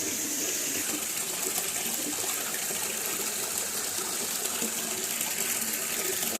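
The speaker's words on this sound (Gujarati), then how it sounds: "હવે પહેલાં ડીશો ધોઈ નાખું" Dishes are washed under a running tap, a steady gushing stream of water splashing close by at a constant level for several seconds.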